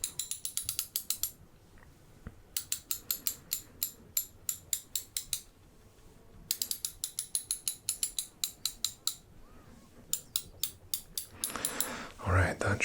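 A ratchet wrench clicks in quick, close bursts of rapid ratcheting strokes while bolts on a kart are tightened in an ASMR mechanic roleplay, with brief pauses between runs and soft handling noise at the end.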